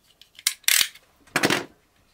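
Vinyl record shrink wrap being cut open, a few quick close crinkly slicing and tearing bursts of plastic film, the last one longest, with no talking.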